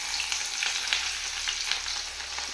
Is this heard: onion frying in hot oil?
yes